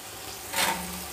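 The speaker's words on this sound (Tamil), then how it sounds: "தக்காளி நல்லா வதங்கிருச்சுங்க." A short burst of hissing sizzle from tomatoes sautéing in a pan, rising briefly then settling into a steady low crackle.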